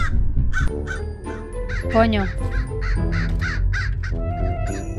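Crow caws in the Hello Neighbor video game, a run of about a dozen harsh rhythmic caws, loud and close, while someone speaks briefly over them.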